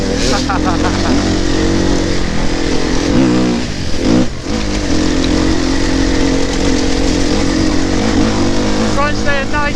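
An enduro motorcycle engine held on steady throttle across a loose, rutted surface, roaring loud and close for the whole stretch with rises and dips in revs and a brief stutter midway.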